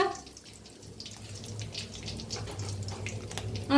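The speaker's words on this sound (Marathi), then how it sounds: "आता तेल चांगलं गरम झालंय त्याच्यात टाकूया कढीपत्ता थोडस हिंग" Curry leaves and a pinch of asafoetida sizzle in hot oil for a traditional Maharashtrian green-chilli brinjal dish, a steady close hiss with scattered crackles and no voices.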